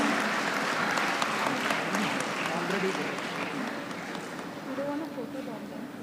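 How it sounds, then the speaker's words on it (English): Convocation audience applauds a first-rank graduate at the PES University RR Campus ceremony, a steady broad wash of clapping from a large hall crowd that holds for the full stretch, with some murmured voices mixed in. "Let us give her a huge round of applause."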